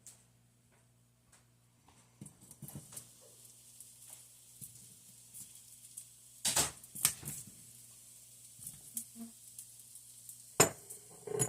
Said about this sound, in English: now the pan is ready. So I'm going to get the potatoes in.